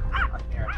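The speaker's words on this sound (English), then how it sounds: "Mind the little dog" A small dog gives two short, high yapping barks close by in a rural spot in northern Thailand, with low background rumble underneath.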